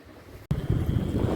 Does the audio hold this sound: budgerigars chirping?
no